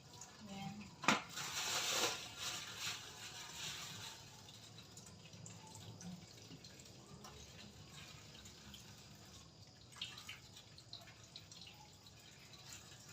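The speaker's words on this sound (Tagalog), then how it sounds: "tumatalsik ang tubig" Water splashes and drips at a sink while fish is washed, with a brief louder burst early on, then softer trickling and occasional splashes.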